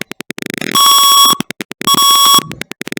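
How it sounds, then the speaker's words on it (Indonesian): An IoT temperature alarm buzzer gives a burst of short rapid clicks, then two sustained loud electronic beeps separated by a brief gap, each followed by more quick ticking pulses, close and clear with no talk. "Buzzer akan berbunyi seperti ini"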